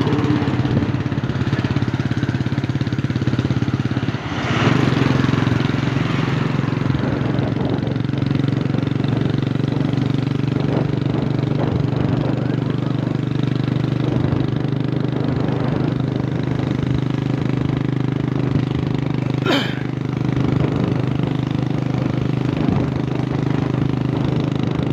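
Heavy road traffic engines rumble and idle steadily nearby at a fair, a continuous mechanical drone of vehicles, with a couple of brief sharper noises breaking through.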